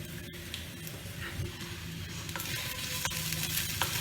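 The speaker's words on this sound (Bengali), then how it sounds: "পেঁয়াজটা ভাজা হয়ে এসছে।" Onions frying in a pan while cooking egg lababdar, a steady soft sizzle with occasional stirring scrapes and clicks, close and moderately quiet, no talking.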